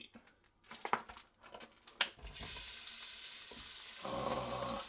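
Stew meat is dropped into hot olive oil in a pan for chili, with a few clattering handling noises first and then a loud, steady broadband sizzle that grows fuller near the end.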